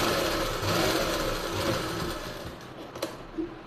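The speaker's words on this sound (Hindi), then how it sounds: "ऐसे ही घुमाकर एक सिलाई और लगा लेंगे।" A sewing machine stitches a seam around the waist of a baby frock, running in a steady continuous whir that holds for several seconds before slowing and stopping near the end.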